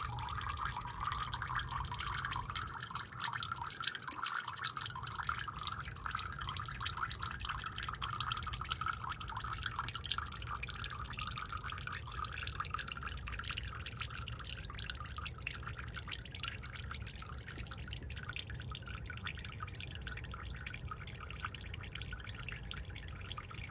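Engine oil drains from a car's drain plug into a drain pan: a steady, faint trickling and dripping that runs continuously for over twenty seconds with light background noise, no talk.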